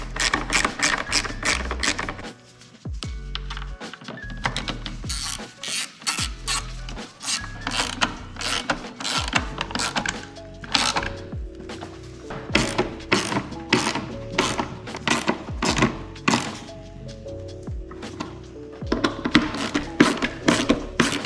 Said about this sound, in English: this last little screw goes in here